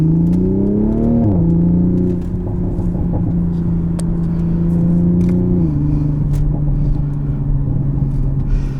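The 3.0-liter engine of a 2020 Toyota Supra drones steadily inside the cabin while driving, its pitch dipping at gear changes then holding level, a loud continuous rumble with no talk.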